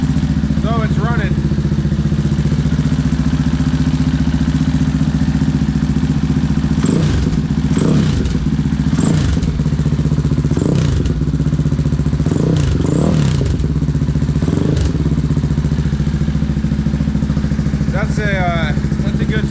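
A KTM engine swapped into a Honda TRX450R quad runs steadily on its first start-up, a loud, continuous mid-pitched drone close by. It is not yet warmed up, and several voices talk over it partway through.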